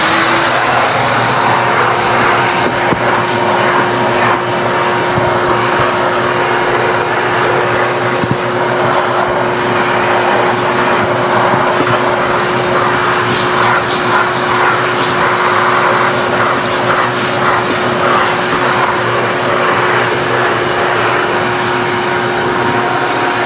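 A Giraffe Tools detailing shop vac runs continuously while vacuuming a car interior, giving a loud, steady motor roar with a constant whine that holds for the whole stretch, with no talking.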